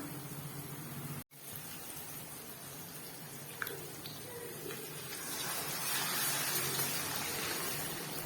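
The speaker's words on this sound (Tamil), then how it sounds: "இப்போ இதுல நம்ம கரைச்சி வச்சிருக்கிற புளித்தண்ணி ஆட் பண்ணிக்கலாம்" Tamarind water is poured into a pan for an onion tamarind curry, a faint, close liquid splash that grows slightly louder toward the end.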